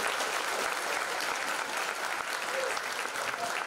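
Steady applause from a seminar audience, continuous clapping throughout at moderate level.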